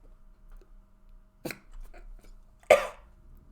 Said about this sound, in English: I had an ice cream and I have a cough now.